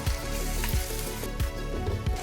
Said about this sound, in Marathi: चांगलं परतून घ्या. टमाटर,